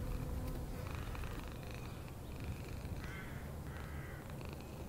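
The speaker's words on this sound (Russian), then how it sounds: "Кот тут сидит." A cat meows and purrs in the horror game Summer of '58, with soft rising calls over a steady background ambience and no speech.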